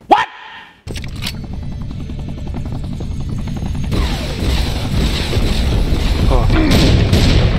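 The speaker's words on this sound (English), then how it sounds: "Helicopter with tentacles." A tentacled helicopter enemy in Serious Sam 4 roars in after a brief sharp burst, its steady rotor chop loud and close and building in intensity over several seconds.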